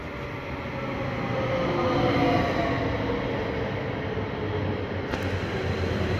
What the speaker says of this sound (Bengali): এই যে আমার ট্রেন চলে আসছে।